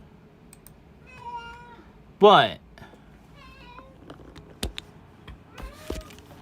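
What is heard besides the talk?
cat meowing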